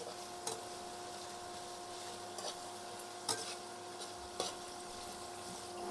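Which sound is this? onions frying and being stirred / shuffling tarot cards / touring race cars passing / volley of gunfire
onions frying and being stirred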